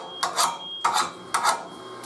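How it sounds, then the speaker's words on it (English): A chipping hammer knocks dross off a freshly plasma-cut steel piece, three separate scraping, rasping strikes in an uneven rhythm, close and fairly loud. "Take a chipping hammer and just knock that dross off."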